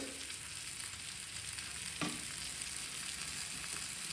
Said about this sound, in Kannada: ನೋಡಿ ಎಷ್ಟು ಚೆನ್ನಾಗಿ ಫಿಶ್ ಫ್ರೈ ಆಗಿದೆ ಅಂತ